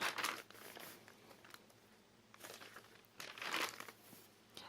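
Washi tape is handled while decorating a notebook, giving soft crinkling and papery rustles in a few short bursts between quieter pauses, close but faint.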